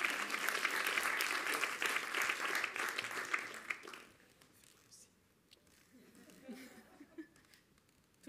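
A live audience applauds loudly and steadily for about four seconds, then the clapping breaks off, leaving a quieter stretch of murmurs and scattered chuckles.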